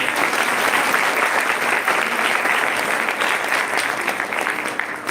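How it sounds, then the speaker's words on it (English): An audience at the end of an academic conference talk claps steadily and fairly close, with dense, even applause that continues throughout and tapers slightly toward the end. "you can clap"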